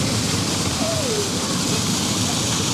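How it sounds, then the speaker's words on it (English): A waterfall in the Parc Bagatelle family park gives off a steady, even rush of falling water that fills the whole moment at constant loudness, with faint background voices. "Lovely with the waterfall."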